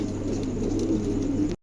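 Pigeons coo softly at a market stall selling pigeons. The low, continuous murmur lasts just over a second and is free of talk.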